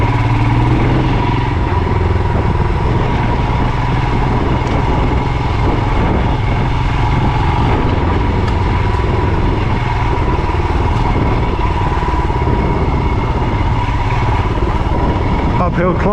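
Royal Enfield Himalayan 411 motorcycle ridden on a dirt trail, its engine droning loud and steady throughout with a constant rumble and rattle, heard up close from the rider's position.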